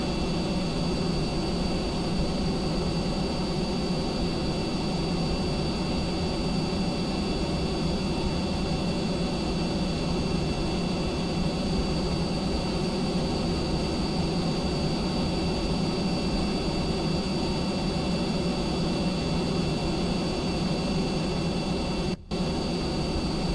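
Steady, loud jet engine roar from an F-104 replica aircraft in Kerbal Space Program, a broadband whoosh with faint high whine holding constant for over twenty seconds, briefly cut once near the end, with no talk.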